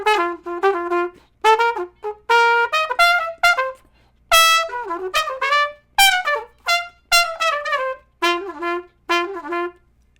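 A jazz trumpet plays a line, with some notes ghosted and swallowed among bright, clearly articulated phrases, close and solo with short pauses between phrases.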